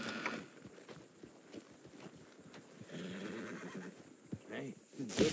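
A Blood Bay Thoroughbred horse in Red Dead Redemption 2 whinnies amid clip-clopping hooves and game ambience, fairly quiet, with brief voices from characters nearby.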